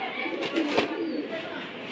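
A pet pigeon coos softly in a Bangladeshi pigeon-keeping setting, a short rounded call rising briefly over a steady hiss of background noise, with low murmuring in the room.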